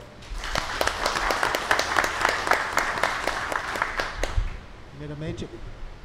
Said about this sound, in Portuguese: eu queria pedir uma salva de palmas para o Dalco